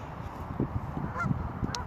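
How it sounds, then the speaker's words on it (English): Canada geese honk a few times at a lake, short nasal calls at moderate distance over a soft outdoor background, with no talking. "Lots of Canada geese."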